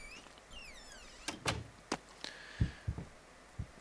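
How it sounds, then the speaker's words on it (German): Knocking in the horror game Layers of Fear: several dull, low thuds spaced irregularly, moderately close, following a faint rising whistle-like tone and a scraping door-like creak. "Das hat doch eben irgendwas geklopft."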